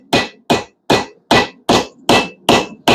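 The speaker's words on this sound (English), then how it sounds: "All I'm going to do is just work my hammer up and down the" Eight sharp, evenly spaced hammer blows ring out as a blacksmith works hot square bar steel into a leaf shape, each strike loud and close with a brief metallic ring.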